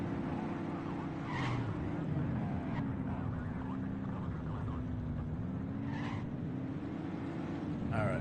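Car engines drone steadily in the video game The Precinct, with tires squealing and skidding in short bursts over the continuous rumble, at moderate volume.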